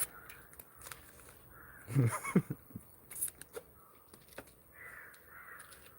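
A crow caws in a couple of loud, harsh bursts near the middle, with softer calls later, close by over quiet outdoor background and some faint talking.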